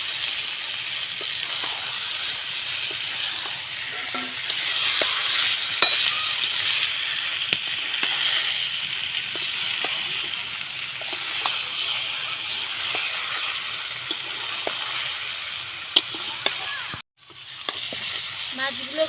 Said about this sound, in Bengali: মশলাটা কষানো হয়ে গেছে, এবার মাছগুলো দিয়ে দিচ্ছি।